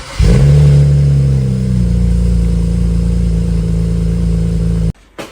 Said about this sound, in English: So let's get a wee cold start on the go.